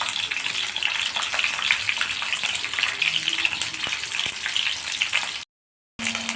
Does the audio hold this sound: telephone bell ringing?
no